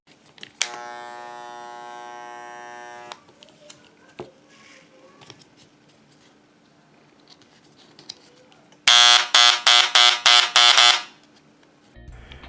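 A loud, high buzzing Parkside electric engraver runs in several sharp bursts, preceded by a steady electronic tone and scattered quiet clicks and taps.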